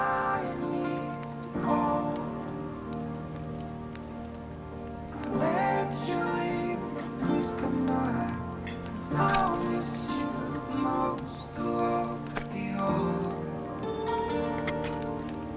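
Rain keeps falling at an overnight survival camp, a soft, continuous patter beneath voices and other faint tonal sounds that rise and fall throughout.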